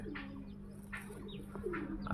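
Giribaz pigeons coo softly in a loft, a few short repeated calls over a low steady background hum, faint and close with no talking.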